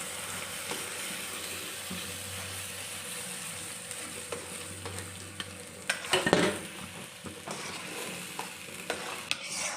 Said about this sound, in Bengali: পোস্তটা দেওয়ার পরে ভালো করে আমি নাড়াচাড়া দিয়ে সব কিছু মিশিয়ে নিচ্ছি।